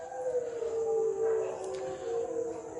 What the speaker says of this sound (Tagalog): Mga aso, nakakatakot.